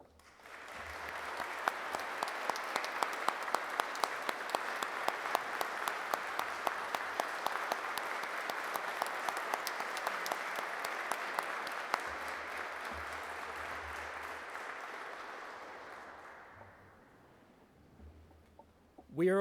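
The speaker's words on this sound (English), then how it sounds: "Please join me in applause for Colonel McNally and the alumni like him" Sustained applause from a large audience at an ROTC graduation ceremony, a dense even wash of clapping lasting well over fifteen seconds before fading out at the end.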